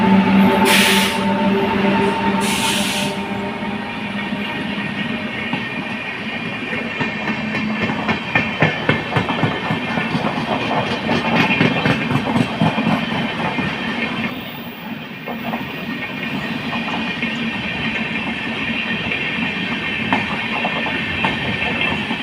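A train rolls past Mankara railway station in Kerala, a loud, close, steady rumble with rhythmic clickety-clack of wagon wheels over the rails. The sound swells and holds for the whole stretch, and no one speaks.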